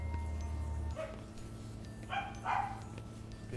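An indoor dog gives a short bark, then two more barks about a second later, close and moderately loud over a low background hum.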